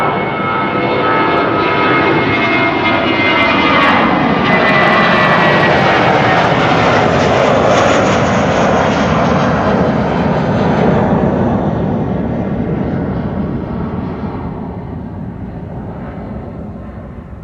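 An airliner departing Amsterdam Schiphol Airport roars loudly and steadily with broadband engine noise, swelling and then slowly fading as it moves away over light wind.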